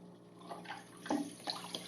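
Water running from a bathroom sink tap, a soft, steady trickle with faint splashes and small drips, fairly quiet and heard alone.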